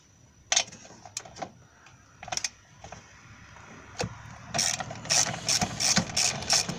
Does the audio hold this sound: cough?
no